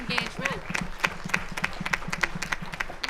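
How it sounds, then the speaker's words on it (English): Audience members clap at a Brooklyn district attorney candidates' forum, giving fairly sparse, evenly spaced claps at a quick, steady rhythm, with a faint voice briefly audible in the mix. "Let's give it a round of applause for all this civic engagement"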